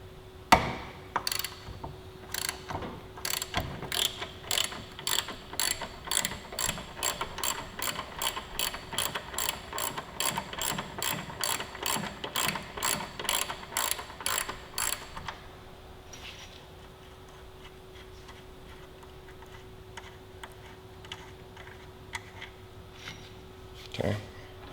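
Ratchet wrench with a 14 mm socket backing off a locking nut on a sportbike, a steady run of quick close clicks for about fifteen seconds, then stopping under a faint hum.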